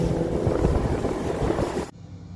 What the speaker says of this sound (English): It's a 50 horsepower engine